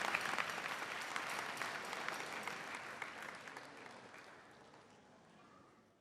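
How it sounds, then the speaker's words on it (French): An Easter service congregation in Bassano del Grappa applauds a visiting church leader with a dense, steady wash of clapping that slowly fades away over several seconds. "Applaudissons-le bien fort."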